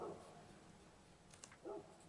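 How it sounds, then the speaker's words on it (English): A neighbour's dog somewhere outside, two faint, short barks or yips at the start and again near the end, distant and soft against a quiet room. "the crazy dog next door's out."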